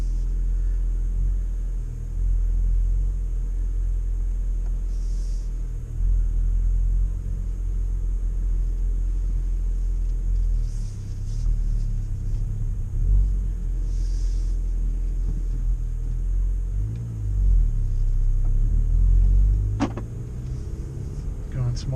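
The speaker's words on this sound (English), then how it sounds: "Just wanted to show you what it was like inside this car at night." Inside a car driving at night, a low engine rumble and road drone fill the cabin, swelling slightly as the car accelerates and shifts, with occasional faint clicks and a brief sharp tap near the end.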